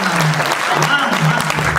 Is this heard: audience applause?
yes